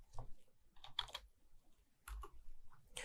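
Email address being typed on a computer keyboard: quick bursts of close, crisp key clicks in short uneven runs, separated by brief pauses.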